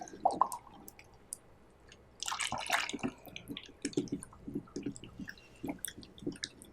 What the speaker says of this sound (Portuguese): Tá borbulhando.